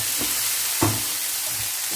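Homemade spicy chili sauce sizzles in a pan with a steady hiss while a utensil stirs it, giving a few soft scraping knocks.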